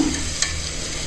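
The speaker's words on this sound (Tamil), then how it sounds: "வெங்காயம் வந்து ஒரு அரை பாகத்தை விட தாண்டின அளவுக்கு நல்லா வதக்கி எடுத்துக்கலாம்" Onions sautéing in a pan for mutton curry, a steady close sizzle with a brief stirring scrape partway through, heard alone without any talk.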